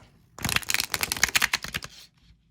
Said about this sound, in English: excited shuffle noise.